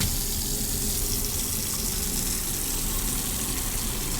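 Tap water runs steadily into a container during a lung float test in the Autopsy Simulator game, a continuous close splashing rush with no talk.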